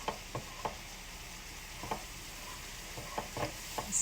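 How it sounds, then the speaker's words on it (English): A Thai massaman vegetable curry is stirred in a pan, quiet sizzling under a string of soft, irregular spoon scrapes and taps. "Stir it around in here."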